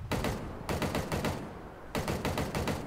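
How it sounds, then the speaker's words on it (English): Gunfire from the player's weapon in the Halo Infinite video game: two rapid automatic bursts separated by a short gap, each made of dense repeated shots, moderately loud with no talking. "that's me shooting my gun"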